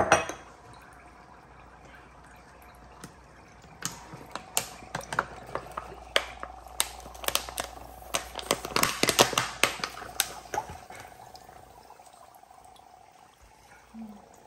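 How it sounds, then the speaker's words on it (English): Water poured onto dry ice pellets in a bottle sets off a run of crackling, fizzing bubbles and sharp clicks, building to a dense burst midway before tapering off, close and fairly loud without talk. "I am going to add a little water in here. We got dry ice pellets in here."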